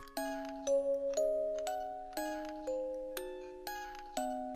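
A bright notification chime rings out in a steady series of bell-like tones, each note ringing and decaying before the next, clean and alone.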